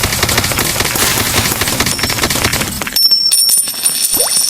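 Rapid, loud video-game gunfire crackles in a continuous automatic stream from a zombie-themed Minecraft-style game, stops abruptly, and is followed by a few quieter game sounds.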